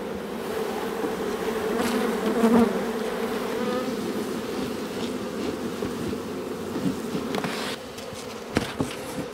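Honeybees buzz steadily around a small hive nucleus, a colony swarm from last year kept on two frames, with a dense continuous hum and a few closer insects passing by the microphone.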